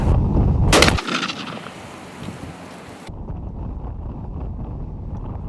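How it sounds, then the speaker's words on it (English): A single loud gunshot fired at a bolting rabbit during ferreting on a windy day, a sharp close blast followed by a decaying tail and steady wind buffeting the microphone. "Everyone's impressed by the last shot"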